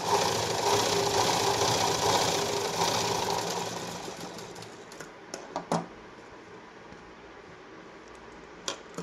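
A sewing machine stitching a blouse runs in a steady continuous whir for several seconds, then fades and gives way to a few quiet clicks and taps.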